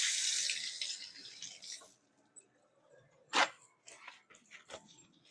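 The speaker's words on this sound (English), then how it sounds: "Let me just wash my hands." A kitchen faucet runs over hands being washed during lunch preparation, a close hiss for about two seconds that then stops, followed by scattered clatters and handling noises.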